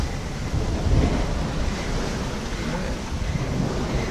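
A sailboat under sail in open ocean during a Gulf Stream crossing toward Cuba, with steady broadband wash of waves and hull water noise plus wind buffeting the microphone, continuous and fairly loud with no engine.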